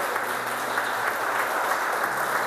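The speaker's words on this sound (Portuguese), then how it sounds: "Vamos aplaudir o nome do Senhor." A church congregation applauds together in a continuous, even wash of clapping hands, moderately loud and sustained without pause.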